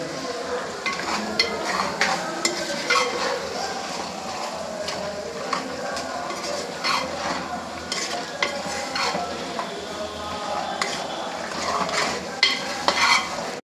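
Mutton curry with chilli powder sizzles in a pan while a spoon scrapes and stirs through it, leaving frequent clinks of metal on metal over a steady frying hiss for the whole stretch.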